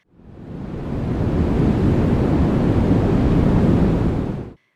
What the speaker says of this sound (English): And then there's brown noise, the deepest of them all. It sounds like the low rumble of a distant thunderstorm or the crashing of ocean waves.